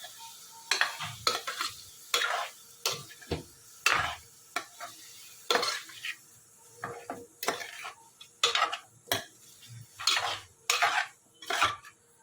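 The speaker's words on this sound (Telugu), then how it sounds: "పసుపు, ఉప్పు ఇవన్నీ వేసి కలుపుదాము అన్నీ కలిసేటట్లు" A spoon scrapes and clanks against a pot while mutton curry with turmeric and salt is stirred, giving irregular metallic knocks and scrapes over about twelve seconds, close and fairly loud, with a faint sizzle beneath and no talk.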